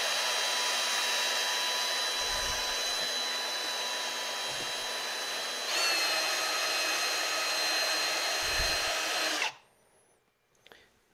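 A drill-driven paddle whirs continuously as it mixes wood stain in a can, holding a steady high whine that shifts pitch partway through before cutting off abruptly, with faint knocks and no talking.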